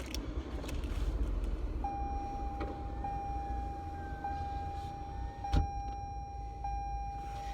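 A dark blue Chevy Traverse nearby: a steady low rumble with a sustained electronic tone sounding over it, and a few brief mechanical clicks.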